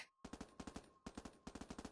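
Gunfire in a visual novel game: two close, loud bursts of rapid shots, about five cracks each, separated by a short pause, with no voices.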